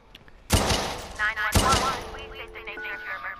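Two sharp, loud gunshot bursts about a second apart ring out in the Watch Dogs 2 video game, each trailing off into reverberant noise. Faint tonal game sounds follow.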